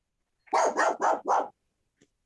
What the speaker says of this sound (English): if anybody has their dog barking, please put your mic on mute